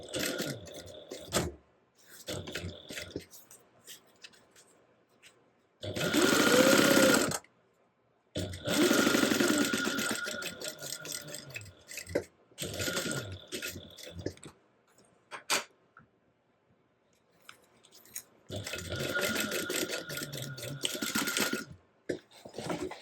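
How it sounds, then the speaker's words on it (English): Sewing machine stitching the side seams of a sewing project at a quarter-inch seam allowance, in several short bursts of running stitches separated by pauses, clicks and handling noises, fairly close. "I'm going to stitch up the sides at 1/4 of an inch seam allowance"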